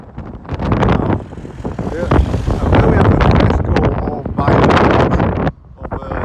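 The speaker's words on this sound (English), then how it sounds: "Wow, it's really windy." Strong outdoor wind buffets the microphone in a loud, continuous low rumble that surges and dips, with a brief lull near the end, on a breezy day out near Blackpool.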